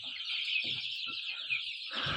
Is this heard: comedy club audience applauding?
no